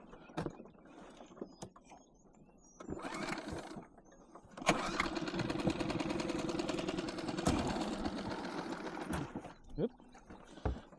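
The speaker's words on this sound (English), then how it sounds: "so I might have to trim up the engine a little bit there." The trim motor on a Bass Raider boat's outboard engine whirs in shallow water on a flooded lake, bursts of mechanical grinding that swell and cut out over several seconds, with someone talking in between.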